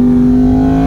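Yamaha R1M motorcycle on the Mandalika circuit, a loud, close, sustained engine tone holding a steady pitch for under a second.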